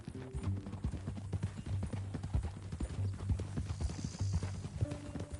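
Horse hooves clip-clop at a steady walking rhythm on a dirt trail in the Red Dead Redemption 2 video game, fairly close and even, with faint ambient game sound beneath.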